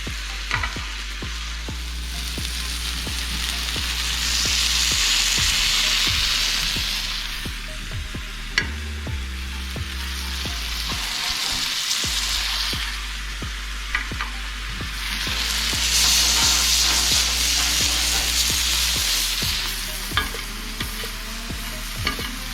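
Lamb loin chops fry in hot grease on a Blackstone griddle, giving a loud steady sizzle that swells and fades while a spatula scrapes and taps the flat top now and then.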